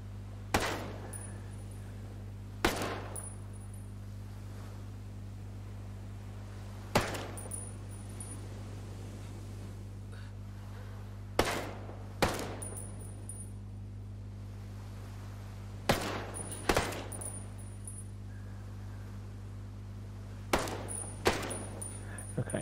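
Unsuppressed SC-20K rifle firing in Ghost Recon Breakpoint, roughly ten sharp single shots at irregular intervals, some in quick pairs, over a constant low background hum.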